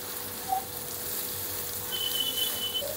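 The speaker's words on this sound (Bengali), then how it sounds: "গাজরটাকেও ভেজে নিচ্ছে" Chopped carrots and onions fry in a pan for pasta, a soft continuous sizzle with faint scattered pops and a few brief higher tones.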